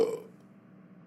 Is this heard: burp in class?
yes